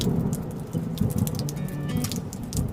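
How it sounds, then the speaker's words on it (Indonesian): Steady light rain patters continuously on a mountain trail on Mount Ciremai, with soft scattered drops ticking through a constant low wash of outdoor noise, no voices present. "Rintik-rintik hujan masih dapat saya rasakan"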